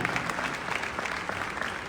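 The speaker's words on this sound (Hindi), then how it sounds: "इसके लिए आप लोगों को जोरदार ताली बजानी चाहिए।" An audience at an event claps loudly and steadily in a dense, continuous burst of applause with no voices over it.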